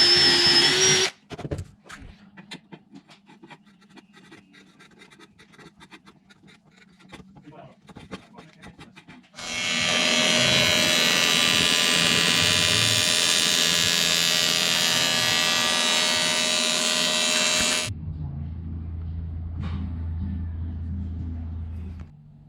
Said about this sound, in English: I'll knock the welds back with a flapper wheel